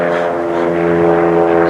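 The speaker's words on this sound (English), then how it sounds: "It's a mountain plane." A small propeller mountain plane drones overhead, a loud, steady engine hum with a buzzing harmonic tone that holds constant throughout.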